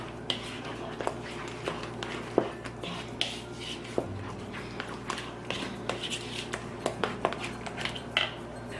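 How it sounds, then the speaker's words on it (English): Ingredients seasoned with garlic powder, pepper and salt being mixed in a bowl for keto chicken cordon bleu, heard as a rapid run of light clicks and taps of utensil against the bowl, close and fairly even. "And then give it a good mix again."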